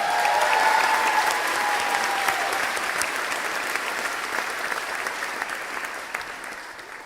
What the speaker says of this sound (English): please join me in one last round of applause